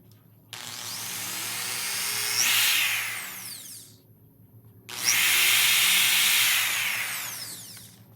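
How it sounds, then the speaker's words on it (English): A power drill bores pilot holes for screws while an arcade cabinet is assembled: two close, loud bursts, each whining higher as it spins up and bites in, then dying away, with a brief quiet gap between them. "I always make pilot holes so it's easier to put the screws in"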